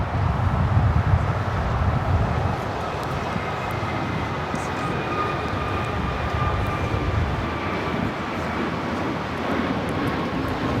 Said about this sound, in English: we got the Emirates and Asiana A380 Supers heading up to the north side.